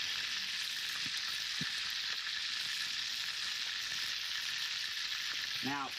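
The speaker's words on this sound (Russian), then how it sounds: "Добавляем эту мякоть в сковороду с персиками." Peaches sizzling steadily in a hot pan, a constant bright crackle with a few soft clinks and scrapes of a utensil.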